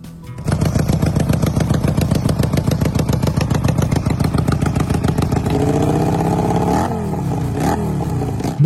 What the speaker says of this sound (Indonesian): Pakai knalpot standar aja yang berkonfigurasi 2-in-1 sudah cukup menggelegar dan gahar, khas suara mesin V-twin milik Harley Davidson.